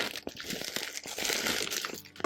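Napkins and tissue paper are crumpled and crinkled close up in a small arts and crafts space. The crackling rustle is continuous and dense, with a few sharper crunches.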